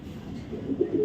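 A male racing pigeon gives a short low coo, close by, rising slightly near the end of a brief moment with faint background noise.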